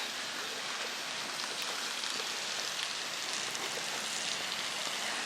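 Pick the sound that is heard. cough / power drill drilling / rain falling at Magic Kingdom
rain falling at Magic Kingdom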